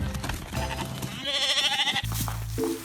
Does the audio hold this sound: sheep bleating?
yes